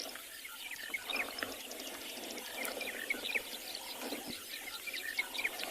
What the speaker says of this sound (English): You can hear the soft hooting noise from that Caricane button quail.